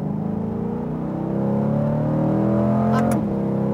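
A Chevrolet Corvette C8 pulls hard around a track, its engine note climbing steadily under load and loud from inside the car, ending in a sharp shift.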